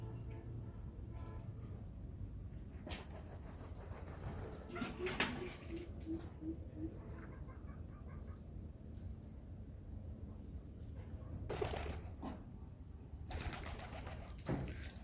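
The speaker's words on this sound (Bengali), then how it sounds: "এক জোড়া খালি মাক্সি কালার কবুতর আছে" Domestic pigeons, including a pair of maxi-coloured birds, coo softly in a backyard pigeon house, a short series of low murmured coos rising over steady background noise with occasional clatters and knocks.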